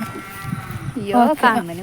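A cow gives a single close, drawn-out moo after a moment of soft, low background rustling.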